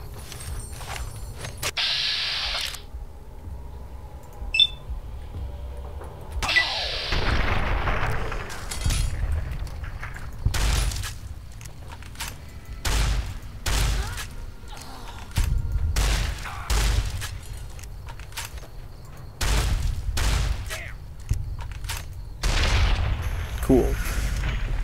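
Repeated booming explosions and sharp bangs in the video game Fallout: New Vegas burst out at irregular intervals, loud and close, with brief quieter gaps between them.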